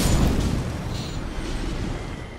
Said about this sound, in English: Explosion not kill them?